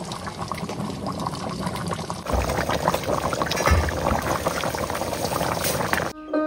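Hot water poured into a large basin for washing fish, a steady rushing pour that grows louder and fuller midway, then cuts off abruptly near the end.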